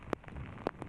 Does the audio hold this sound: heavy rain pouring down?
yes